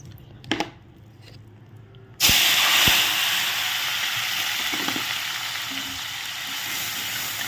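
After a couple of quiet seconds with faint knocks, food hits hot oil in a pan on a gas stove and a loud, sudden sizzle erupts, then settles into a steady close hiss with a few light stirring taps.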